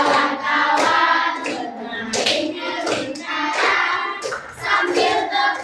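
A group of children claps hands in rhythm along with a cheerful sung song in a classroom activity, the steady claps sounding under the singing voices throughout.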